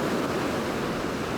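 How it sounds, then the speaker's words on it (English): Ocean waves draw back across a sandy beach on a dark shore, a steady close wash of surf and hiss, loud and unbroken throughout with no voices. "So I can get the waves as they drag back"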